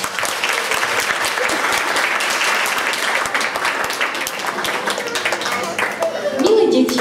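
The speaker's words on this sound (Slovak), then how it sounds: "Veľký potlesk aj pre nich." Audience applauding child reciters from the drama department at a school concert, a steady dense wash of clapping lasting throughout, fairly loud and close, with a brief voice near the end.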